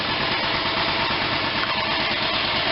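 A pneumatic grease pump, used on an R-1820-76 radial engine during piston removal, runs wide open at full pressure, giving a continuous, loud, rattling mechanical hiss with no pauses.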